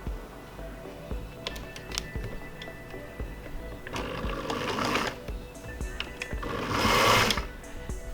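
A sewing machine stitches side seams in a steady mechanical whir with rapid ticking needle strokes, speeding up in louder bursts near the end.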